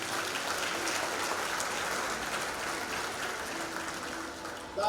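A ceremony audience applauds university graduates at a Seychelles graduation, a sustained, fairly soft and distant patter of many hands continuing evenly throughout.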